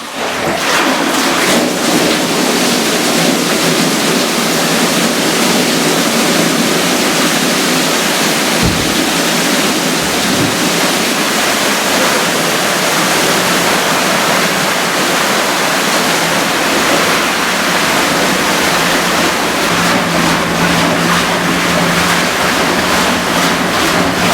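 Water mill wheel turned by a 3 metre waterfall from a stream, a loud continuous rushing roar of falling water with a faint low mechanical hum and occasional thumps, no voices.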